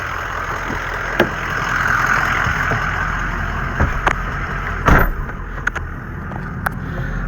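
A Ford F250 turbo diesel truck drives along with a steady engine rumble, punctuated by occasional knocks and bumps from the road, heard close from inside the cab.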